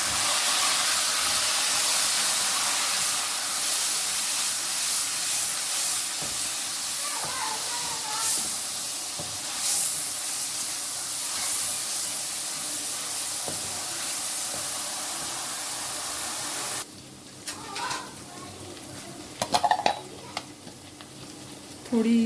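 Water splashed into a pan of frying daal mash with garlic and round chillies, giving a broad, steady steaming hiss that runs loud and continuous, then drops and thins into softer crackles and stirring near the end.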